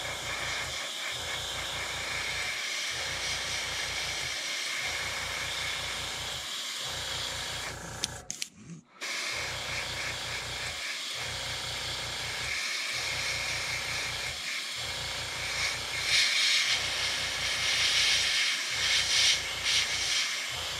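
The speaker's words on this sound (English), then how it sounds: "Let's get this sprayed in kind of dark." Airbrush spraying dark brown paint onto a squarebill crankbait fishing lure, a steady close hiss with a rhythmic pulsing compressor beat underneath, briefly cut off midway before resuming.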